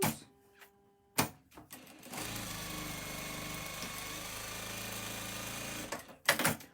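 A home sewing machine stitches steadily for about four seconds while a quilt row block is pieced, a continuous mechanical whir set between brief handling clicks and knocks at the start and end.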